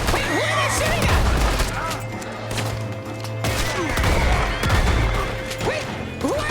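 Gunfire in a video game rattles in loud, overlapping bursts over a busy mix of in-game crashes and thuds, while a player's voice talks over the action.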